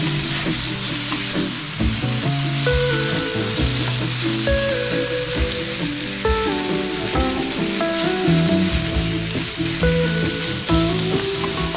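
Wild boar meat frying in a pan for a stew, a loud, dense, close sizzle that keeps going throughout, with tonal music running underneath and no voices.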